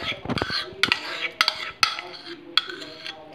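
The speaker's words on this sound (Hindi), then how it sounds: "और इसको अच्छी तरह से हम कर लेते हैं मिक्स" Mayonnaise dressing stirred into a vegetable salad in a bowl, with a spoon clinking sharply against the dish several times amid soft squelchy mixing, close and fairly quiet, no talk.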